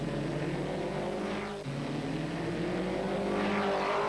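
Race cars at a 1990 road race in Queenstown roar through a wet circuit, a dense continuous engine drone with spray hiss and a brief dip as one passes, loud and steady throughout.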